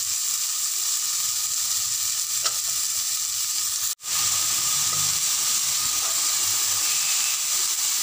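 Brinjal sautéing in a hot pan for a Tamil-style kootu, a steady loud sizzle and hiss of frying with faint stirring, broken by one brief dropout midway.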